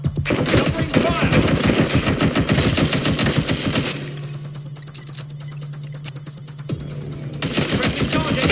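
Rapid bursts of automatic machine gun fire in the video game Watch Dogs: Legion, loud close rattling volleys with a brief lull in the middle, layered over a steady electronic tone.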